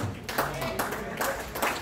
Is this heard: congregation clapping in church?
yes